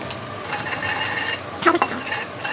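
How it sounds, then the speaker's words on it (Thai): Garlic fries in hot oil for fried rice with nham, a steady bright sizzle, then a utensil stirs and scrapes the pan in a few quick strokes near the end. "ขั้นตอนแรกเจียวกระเทียม"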